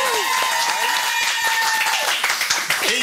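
Dense crowd applause and cheering with scattered claps and shouts, steady and loud throughout, with a voice briefly rising above the noise.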